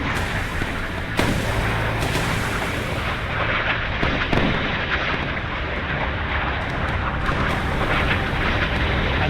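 Missile hits exploding on the Soviet carrier Kiev in the naval combat video game Sea Power: a loud, sustained roaring blast with sharp impact cracks near the start and middle, rumbling continuously throughout.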